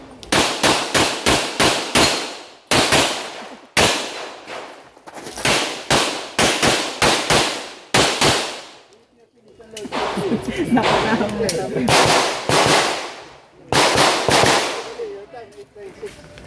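Rapid sharp gunshots at a shooting competition fire in quick bursts, some shots close together, with pauses between strings; a voice talks over the middle stretch.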